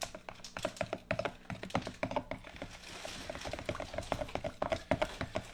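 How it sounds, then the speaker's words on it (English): Sour cream green onion dressing stirred briskly with a spoon in a bowl, giving a rapid run of close, wet clicking and scraping strokes in a steady rhythm, with no talk. "Now let's stir this up good."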